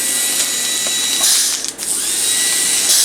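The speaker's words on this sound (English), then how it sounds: "I'm gonna do the same thing with the slow speed that has the round burr in it." Slow-speed dental handpiece fitted with a round burr runs steadily at a high whine throughout a crown prep, dipping briefly midway before resuming, close and fairly loud with no talk.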